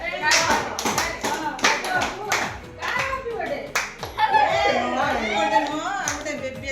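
Hand clapping at a family birthday party, loud irregular claps near the listener mixed with children's voices and adult chatter, rising into a lively group singing toward the end.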